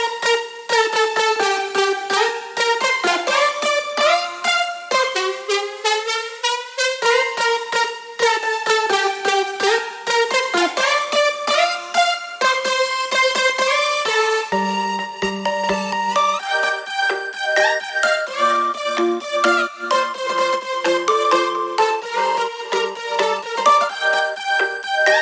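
A thick future bounce synth lead built from dozens of stacked layers in Ableton Live plays a bright, busy melodic line for about twenty-five seconds, loud and continuous, with a short lower stab section midway and no talking.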